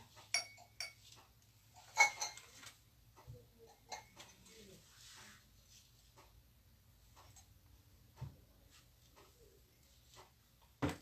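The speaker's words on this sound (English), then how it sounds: "And your drinking glass go on the right side." Drinking glasses set down one by one on a laid banquet table, light scattered clinks and taps at uneven intervals, fairly close, under quiet intermittent talk.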